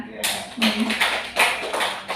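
A school audience claps in a classroom discussion at a Gresik junior high, a short scattered round of applause rising and falling in several bursts.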